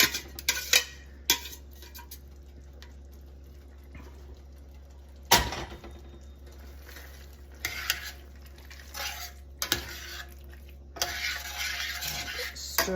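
A utensil stirs torn lasagna noodles in a pot, making irregular scraping and clinking against the metal, with a few sharper knocks. A faint sizzle runs low beneath the stirring.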